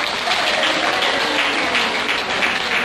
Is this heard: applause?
yes